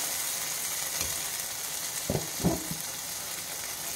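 Masala frying in oil in a pan while reshmi chicken is being cooked, a steady soft sizzle with a few light knocks of a spoon or the pan around the midpoint.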